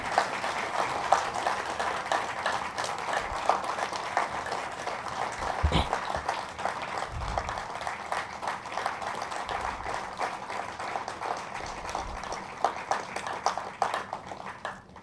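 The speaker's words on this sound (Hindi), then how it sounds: "तालियों की गूंज कम नहीं होनी चाहिए" An audience at a book launch applauds continuously, with steady, moderately loud clapping that runs throughout and a few low thumps mixed in.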